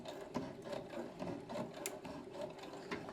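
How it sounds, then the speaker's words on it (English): A sewing machine stitching a seam with a presser foot, a steady rapid mechanical whir and clatter heard close and continuous, no voices. "I'll just finish up my seam, because I am actually sewing"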